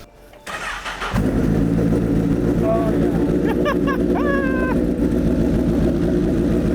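A loud car engine cranks and catches after a brief hush, then settles into a steady, rumbling idle close by, with some faint voices and squeaky chatter riding over the drone.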